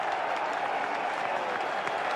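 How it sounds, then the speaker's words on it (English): A crowd on the hill at Adelaide during the 2006-07 Ashes second cricket Test cheers and applauds a wicket in a steady, sustained roar heard from a distance. "listen to the cheer on the hill"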